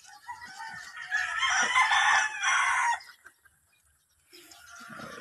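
Gamecocks at a farm, about a thousand birds awaiting monthly deworming, crow loudly nearby, one long crow followed by clucking and further crowing in the background.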